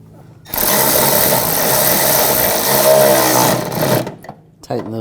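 A power tool spins nuts onto the condenser studs of a 2004-2009 Audi A4 in one sustained loud buzzing whir lasting about three and a half seconds, followed by a few short bursts.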